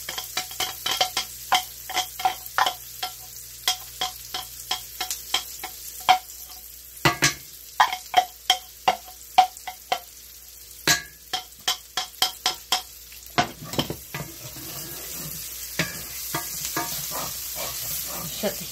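Garlic sizzles in a hot pan while being stirred, a steady frying hiss cut by repeated sharp scraping strokes in an uneven rhythm, heard up close with no talking.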